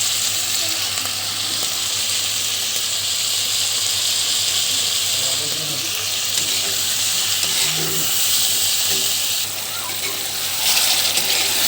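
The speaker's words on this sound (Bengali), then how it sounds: "আমি এখন এটা সুন্দর করে কষিয়ে নেব।" Onion and spice paste with ginger-cumin paste, garlic paste, chili powder, salt and turmeric frying in a pan for a Bengali fish curry, a steady loud sizzle running throughout with occasional soft stirring scrapes.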